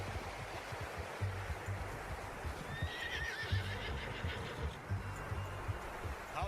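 A horse neighing in the Red Dead Redemption 2 video game, a bright whinny rising and wavering over a steady backdrop of hoof clip-clop and outdoor ambience, fairly near and moderately loud.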